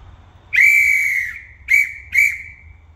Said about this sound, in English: So I'll blow right so the crane operator knows which way we're going.